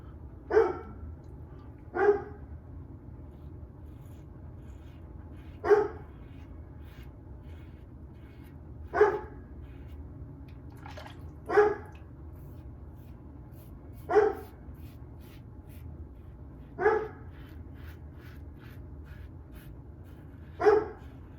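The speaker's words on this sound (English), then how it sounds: "As you could probably hear in the background, my dog barking." A dog barks in the background, about eight single woofs spaced every two to three seconds, moderately distant over a low steady room hum.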